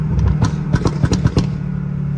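BMW M5 F10 engine roaring as heard from outside the car, a loud steady low rumble with a few sharp revving pulses and clattering bursts in the middle, then settling back to a constant drone.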